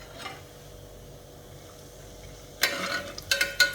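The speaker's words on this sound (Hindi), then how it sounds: "So once the ghee gets heated up, हम लोग अपना क्यूमिन उसमें डाल देंगे।" Cumin seeds drop into hot ghee for dal tadka: after a quiet pause, sharp crackling and spluttering bursts start up close and keep popping.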